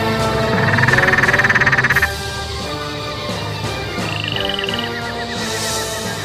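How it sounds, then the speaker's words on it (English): Australian rainforest frogs call loudly and close, with a rapid pulsing trill at first, then overlapping croaks and chirping notes repeating in a dense chorus and no voices. "Each frog has its own distinctive call."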